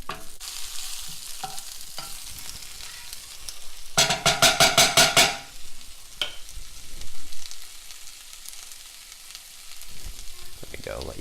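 Spinach sizzles and crackles in a hot pan, a steady frying hiss with a loud burst of stirring scrapes midway, heard alone without voices.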